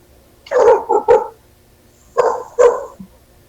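A dog barks loudly and close by in two bursts, first three quick barks, then a pause, then two more, with quiet background between them.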